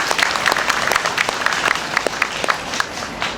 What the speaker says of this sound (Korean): 우리 최승재 국회의원님께 다시 한번 힘찬 박수 부탁드리겠습니다.